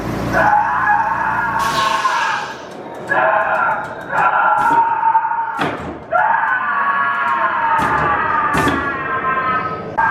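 A screaming baby Sasquatch animatronic prop at a Pigeon Forge, Tennessee attraction lets out loud, harsh, repeated wailing shrieks, broken by a few sharp thumps from the prop box.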